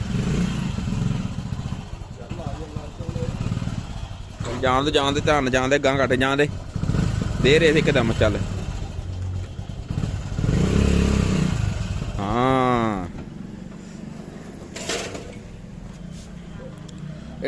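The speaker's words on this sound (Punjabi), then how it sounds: "ਮੋਟਰਸਾਈਕਲ ਮੋੜਨਾ ਬੜਾ ਔਖਾ ਵਾ" A motorcycle turns slowly on a rough road strewn with loose bricks and stones, its engine a steady low rumble with occasional clatter, while several people talk over it.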